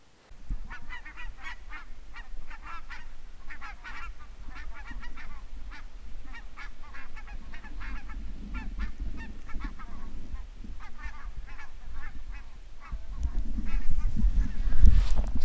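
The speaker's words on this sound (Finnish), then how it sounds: "Tässä koko ajan näkynyt hanhia, joutsunia ja muita vesilintuja." Migrating geese honk steadily overhead on an autumn day by a lake, a dense run of overlapping calls at moderate distance, with a low rumble swelling near the end; no talking.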